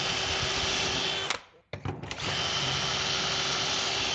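A power drill bores pocket holes through furniture pieces held in a Kreg jig for a custom nightstand in a pole barn workshop, a loud steady whine that briefly stops and restarts, then runs on continuously.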